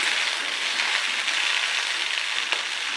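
Okra, home-grown, frying lightly in oil in a karahi for a poppy-seed dish, giving a steady, close, even sizzle with no break and no voices.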